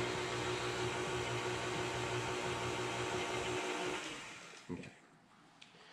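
An electric stand mixer with scraper beater attachments whirs steadily through sticky brownie batter, a loud continuous motor drone for about four seconds before it cuts off and falls quiet, with a brief clatter and a short spoken word near the end.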